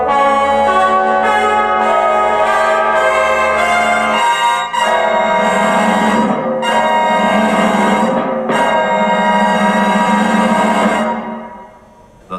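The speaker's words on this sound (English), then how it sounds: "Listen to the following sound signals." A budget Onn TV soundbar plays center-channel test signals as sustained, bell-like tones that shift partway through, loud and steady, then fade out at the end.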